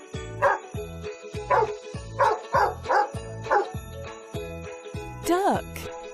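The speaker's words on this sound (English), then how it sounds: "dog," A dog barks in a string of about ten sharp, evenly spaced woofs with a final whiny yelp, heard alone over a steady rhythmic backing beat.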